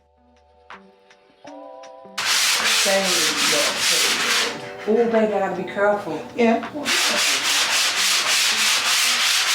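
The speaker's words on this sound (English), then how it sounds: "So right here, y'all, we're going to sand." A top coat on a wooden kitchen countertop is sanded by hand, loud steady rasping strokes starting after a brief quiet intro, with a person talking over the scraping.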